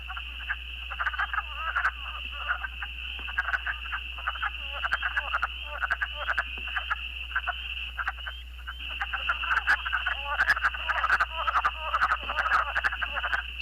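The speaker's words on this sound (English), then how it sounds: "Does anybody recognize any of these frog calls?" A chorus of recorded frog calls plays back over a steady hum, with rapid overlapping croaks and trills pulsing continuously, thinning briefly midway before building again.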